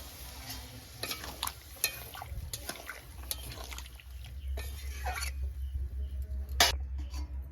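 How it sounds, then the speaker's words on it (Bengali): Water goes into a pan of frying poppy-seed paste curry with pumpkin greens, giving a bubbling sizzle with clinks of a utensil stirring, close and moderately loud. "আমি এবার জল দিয়ে দেবো"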